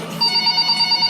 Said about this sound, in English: I'll wait for somebody to get that phone.